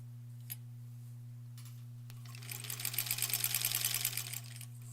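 A sewing machine stitches quilt blocks with a fast, steady mechanical rattle that starts after a quiet couple of seconds, running close and loud over a constant low hum.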